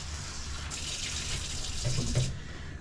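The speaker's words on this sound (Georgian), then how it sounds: "უნდა გავრეცხოთ ღოლო, კარგად უნდა გავრეცხოთ" Gholo greens are washed under a running kitchen tap, a steady splash of water into a sink that swells in the middle and then cuts off near the end.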